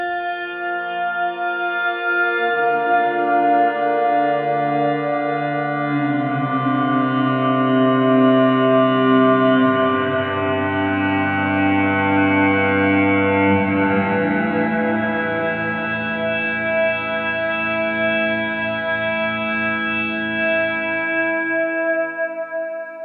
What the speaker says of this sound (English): delay and reverb on there.